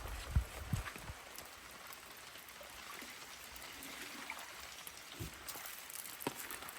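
Light rain falls outdoors on a cool day of about 10 degrees, a soft, steady patter with scattered drops and a few low thumps early on, quiet and continuous with no one talking.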